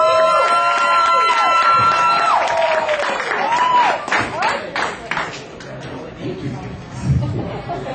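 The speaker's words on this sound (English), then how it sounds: "let's hear a round of applause for Jared Blake." A comedy club crowd cheers and claps loudly with whistles and shouts as a comedian is called to the stage, the applause fading into scattered voices toward the end.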